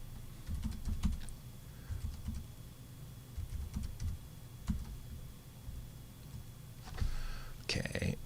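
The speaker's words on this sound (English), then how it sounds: "I'm going to type in everything one more time" Fingers type answers on a computer keyboard in a steady run of light, irregular clicks, close up, with a low hum underneath and a denser flurry of keystrokes near the end.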